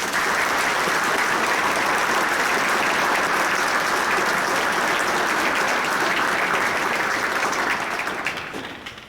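Sustained audience applause at a school Veterans Day assembly welcoming a retired Army sergeant first class, dense and steady clapping throughout before tapering off at the very end.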